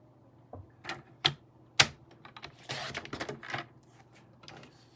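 A paper trimmer slices through cardstock with a series of sharp clicks and a grinding slide of the blade, close and fairly quiet, in uneven bursts over a few seconds.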